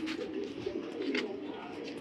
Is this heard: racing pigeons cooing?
yes